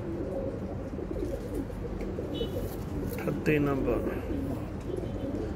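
Imam Din pigeons coo softly in low, rolling bursts over a steady background hum, while someone speaks nearby.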